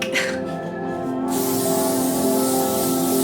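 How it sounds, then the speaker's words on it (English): Hairspray hisses from a can onto backcombed hair in a grunge style, a close continuous aerosol spray that grows fuller partway through over a faint background tone. "Lots of hairspray."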